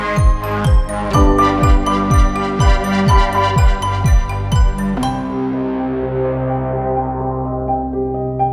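A train's bright bell clangs about a dozen times in a steady rhythm, each strike ringing with metallic overtones, then the final tone lingers and fades out alone.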